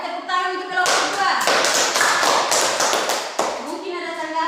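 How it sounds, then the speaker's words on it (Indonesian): Students in a classroom clap for a presenting group, a dense burst of hand claps lasting a few seconds, with children's voices talking before and after. "tepuk tangan untuk kelompok"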